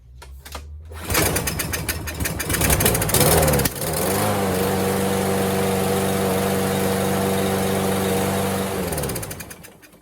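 Husqvarna lawn mower with a Briggs and Stratton engine starting and running on fresh non-ethanol fuel, a loud steady close-up drone after a rough catch, idling evenly for several seconds before cutting off.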